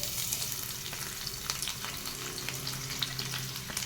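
Onions frying in a pan with curry leaves and green chillies, a dense steady sizzle with faint crackles and light stirring, close and constant.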